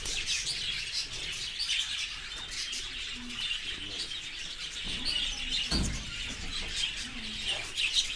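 Pet budgies and parrots chirp and tweet continuously at close range, with busy overlapping calls, occasional soft coos and a brief flutter of wings.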